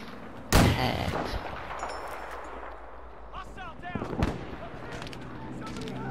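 Gunfire in the video game Battlefield V: one sharp, loud shot opens, then a noisy battlefield bed with scattered distant pops. A second, weaker burst of shots follows near the end, while a voice speaks briefly in the middle.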